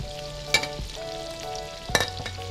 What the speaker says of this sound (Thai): ทอดกุนเชียงไม่ให้ไหม้แล้วก็มันน้อยครับ